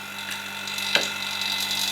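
A vacuum pump for a woodworking air clamp system, wired through an inline switch, hums steadily at close range with a brief mechanical click near the middle as it runs.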